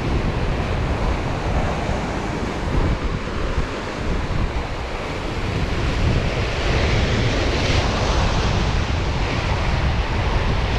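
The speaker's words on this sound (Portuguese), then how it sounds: "A maré já tá batendo forte aí." Strong surf pounding a rocky coastal shore during rock fishing, with gusting wind buffeting the microphone; a dense, continuous roar of crashing water held loud and steady throughout, with no talking.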